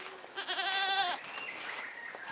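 A goat bleats once in a long, wavering, tremulous cry close by, then trails off into quieter farmyard background.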